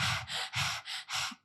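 A voice imitates heavy panting with five quick, loud, close breaths in a steady rhythm, alone with no other sound.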